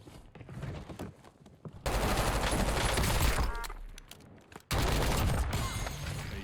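Rapid automatic gunfire in Call of Duty Warzone: two sustained, loud bursts of shots, each roughly two to three seconds long, separated by a brief lull, with no talking.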